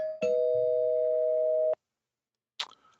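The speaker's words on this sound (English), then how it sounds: "I'm going to ring the spoiler bell real quick." A spoiler bell sounds a steady electronic tone for about a second and a half, then stops. After a short silence comes one brief, bright ding. Both are close and stand alone.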